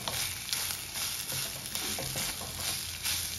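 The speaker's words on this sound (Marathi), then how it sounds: "1 छोटी वाटी खोबरं आणि 1 कांदा उभा चिरलेला। हे सगळं आपल्याला छान आधी परतून घ्यायचं आहे।" Grated coconut and sliced onion sauté in a pan, a soft steady sizzle with faint stirring scrapes running throughout.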